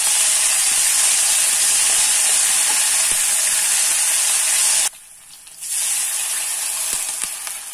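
Mustard seeds spluttering in hot oil with ginger and curry leaves tossed in, a loud continuous hiss and sizzle that drops out briefly midway before resuming.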